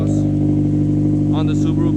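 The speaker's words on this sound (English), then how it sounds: "this is just an axle back exhaust on the Subaru BRZ" A Subaru BRZ with an axle-back exhaust and the muffler deleted idles with a loud, steady low rumble close by, while a person talks briefly over it.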